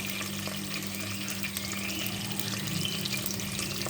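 Mutton pieces for nehari start to sauté in a pot, giving a steady, close sizzle and watery frying hiss with a low constant hum underneath, no voices.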